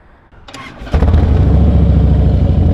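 A Harley-Davidson Heritage motorcycle engine is started close by: a brief starter crank, then the engine catches with a loud, deep rumble that settles into a steady idle.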